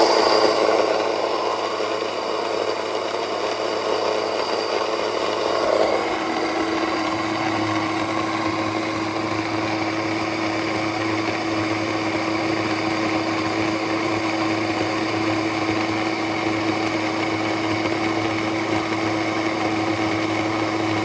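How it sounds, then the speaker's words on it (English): An electric grain mill grinds emmer wheat into flour, a loud, steady, high-pitched motor drone with a whirring grind that holds unchanged for about twenty seconds, with no talking. "So let's start milling."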